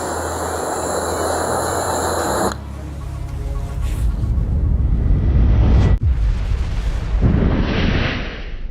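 Powdered sugar spat onto a burning flame bursts into fire with a sudden roaring whoosh, a sharp crackle and a sustained rushing burn that fades, loud and close.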